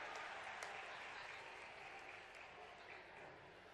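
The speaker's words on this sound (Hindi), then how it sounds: "जोरदार तालियां हम सबकी ओर से होना चाहिए" A hall audience applauds during a welcome at the Kalidas festival ceremony, a continuous, even patter of clapping heard quietly and at a distance.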